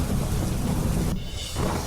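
Monsoon rain pours down over Ahmedabad in a dense, even hiss, with a low thunder rumble underneath throughout the short stretch.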